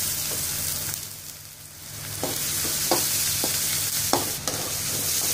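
Paste fries in butter for a moong dal khichdi, giving a steady close sizzle with a handful of distinct spatula taps and scrapes spaced through the second half, and no talking.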